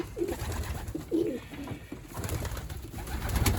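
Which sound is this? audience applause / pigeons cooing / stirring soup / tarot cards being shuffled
pigeons cooing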